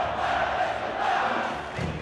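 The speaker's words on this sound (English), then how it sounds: "The crowd is unbelievable. The energy's electric." Big stadium crowd at an LAFC home match at BMO, roaring and cheering in a loud, sustained wash of voices that swells and dips a little.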